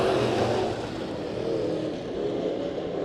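Sport Mod race cars at Santa Maria Raceway take the green flag to start a five-car heat race, their engines a steady, loud, dense roar with a slight swell, and no voices over it.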